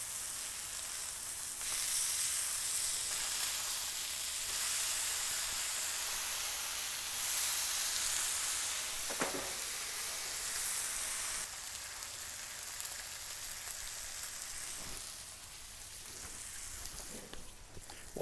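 Ribeye steak sizzling on a hot Blackstone griddle, a soft steady hiss with brief crackles and a few faint clicks, no talking.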